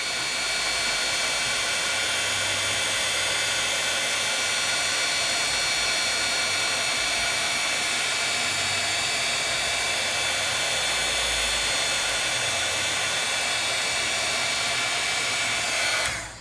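An embossing heat tool blows hot air across a crafting die-cut embossed piece, a steady close whooshing roar that holds unbroken for the whole stretch and cuts off abruptly at the end.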